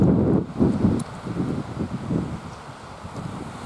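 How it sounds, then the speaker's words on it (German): Warm southerly wind buffets the microphone at sunset in Tolo, a seaside setting, as gusty low rumbles that swell and fade in uneven bursts. Faint rustling sounds underneath, with no voices. "Deutlicher warmer Wind von Süden"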